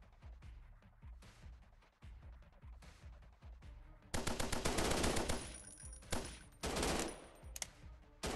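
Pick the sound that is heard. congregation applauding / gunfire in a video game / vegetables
gunfire in a video game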